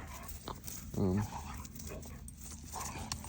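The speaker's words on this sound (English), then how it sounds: "That's my dogs over there." Two dogs outdoors, one white and black and one brown, give a brief whimpering bark-like sound near the middle of the clip over steady background noise while a person talks.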